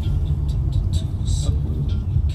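Car driving along a road, a steady low rumble of engine and tyres close by, with faint higher clicks and sounds over it.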